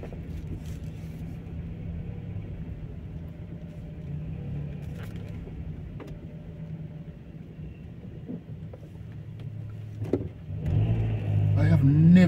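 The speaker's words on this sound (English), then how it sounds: "I've never seen traffic going up this road before" Car traffic on a road in Stopsley, Luton, UK, heard from inside a car as a steady low engine rumble that rises toward the end as vehicles move uphill.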